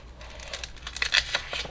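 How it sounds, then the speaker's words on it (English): A sticker being peeled off its backing, giving soft crinkling and tearing rustles in short close bursts, a little louder toward the middle. "sometimes they don't peel from the back. See, it's not peeling."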